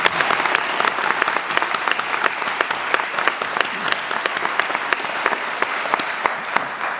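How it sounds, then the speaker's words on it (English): Sustained audience applause at a state announcement of $3.2 million in apprenticeship grants, many hands clapping steadily at close-to-moderate distance for several seconds. "So let's give a round of applause"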